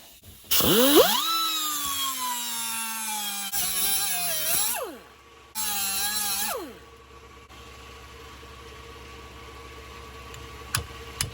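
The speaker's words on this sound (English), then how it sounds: "Now we have to cut through the inner race and the collar" A power tool cuts into the inner race and collar of an axle bearing on a Ford 8 or 9 inch rear axle, with a loud, shrill rising whine and grinding that runs in two long bursts and then winds down to a low hum.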